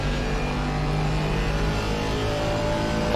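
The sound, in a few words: race car engine revving under throttle in a racing video game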